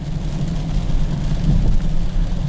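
Steady low engine drone from a 2015 BMW 428i while driving, heard from inside the cabin, a continuous rumble with road noise and no talking.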